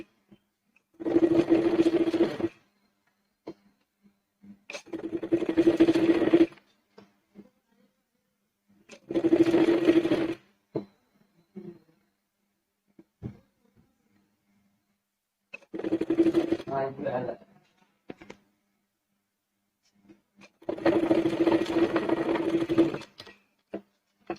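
A sewing machine stitches a sleeve in five short, loud bursts of rapid whirring separated by quiet gaps, with faint handling sounds between them.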